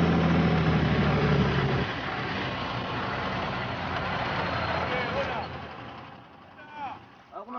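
A truck labors along a rough, potholed road in the Congo, its engine loud and close at first, then settling into a steady rumble. Other voices are heard faintly near the end.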